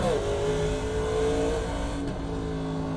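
A NASCAR Legends race car in iRacing at Sonoma, its engine droning loud and steady, pitch sliding down as it downshifts into a short gear, with no talk over it.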